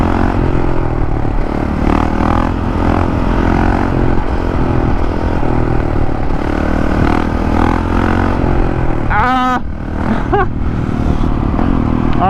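A supermoto motorcycle fitted with a one-finger trigger stunt clutch drones steadily up close with light rattling, then gives a quick sharp rev that rises and falls near the end.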